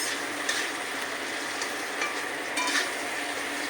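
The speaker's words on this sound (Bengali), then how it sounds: "আলুটা ভাজা ভাজা হচ্ছে।" Potatoes fry in hot oil in a pan while fish curry is being made, giving a steady, close, even sizzle with faint occasional clinks and no voices.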